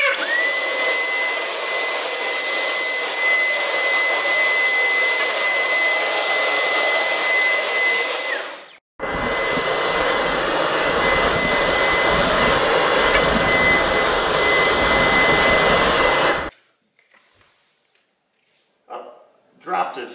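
A Dyson V11 cordless vacuum fitted with a Wessel-Werk floor tool roars close and loud with a steady high whine, cuts out briefly, runs again for several seconds and then stops, leaving near silence.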